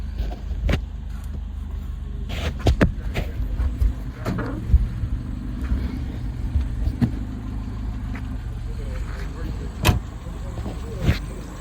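A Renault 16 engine idles steadily at close range, a low continuous rumble with scattered clicks and knocks over it, while someone talks quietly now and then.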